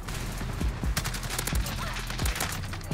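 Gunfire in the video game Modern Warfare: rapid bursts of close shots with sharp repeated cracks at irregular intervals, loud and dense across the whole stretch.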